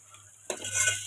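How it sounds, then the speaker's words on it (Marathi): A spoon stirs kadhi in a pot with roasting masala, starting quiet and then breaking into a close scraping, sizzling swirl that grows a little louder over the final half second. "चांगलं असं हलवून घ्यायचं त्याला."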